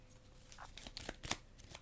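A short, soft riffle of cards being shuffled, a quick series of light flicking snaps close by.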